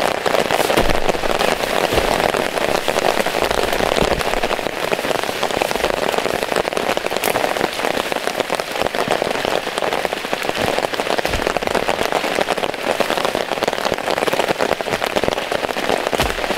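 Heavy rain pounds steadily on a camping tarp in a downpour after a week of wet weather, a dense, continuous close patter with no talk.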